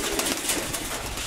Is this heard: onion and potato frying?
no